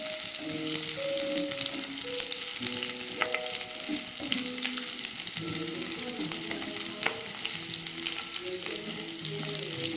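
Garlic and dried red chilies sauté in hot oil in a pan, giving a steady close sizzle and crackle with occasional stirring scrapes throughout.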